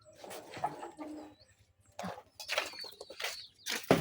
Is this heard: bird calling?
yes